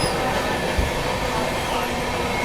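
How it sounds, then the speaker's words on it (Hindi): Indian passenger train, the LTT Danapur Special, crossing at Chunar Junction, heard as a loud, steady rumble of rolling coaches with constant wheel noise throughout and no voices. "बढ़िया क्रॉसिंग हुई चुनर जंक्शन के स्किप के साथ साथ LTT दानापुर स्पेशल के साथ"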